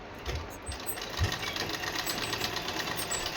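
A sewing machine stitches around a garment neckline in quick, rhythmic mechanical bursts, close by and moderately quiet, with a few sharper knocks early on.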